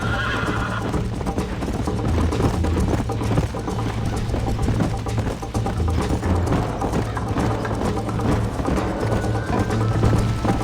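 Horse hooves gallop in a steady clip-clop with occasional neighs in Red Dead Redemption, loud and continuous over dense game music and ambience, with no talking.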